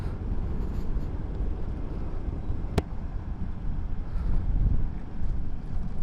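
Steady low rumbling wind buffeting a motovlog microphone on a moving motorbike, loud and continuous throughout with a brief sharp click near the middle, no talking.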